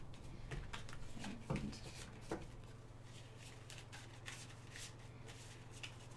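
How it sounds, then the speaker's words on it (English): Close, soft riffling and shuffling of tarot cards, a run of light papery flicks over a faint low hum. "I love these cards, but they're kind of hard to shuffle"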